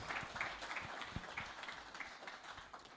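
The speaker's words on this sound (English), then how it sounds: "Round of applause." A forum audience in Nairobi, Kenya gives a round of applause, with scattered, fairly faint hand claps over a few seconds.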